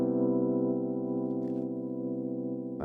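A piano holds a major seventh chord: one voicing sustained as a rich, even tone for a few seconds, heard alone and fading slightly at the end.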